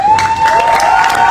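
A church congregation at a thanksgiving worship service applauding, with loud crowd clapping and cheering, a brief burst heard up close, and a sustained tone running underneath.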